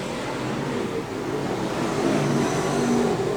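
A Pro Mod race car powers down the back straight, its engine a loud, sustained roar rising slightly in intensity, with the surrounding racetrack din behind it.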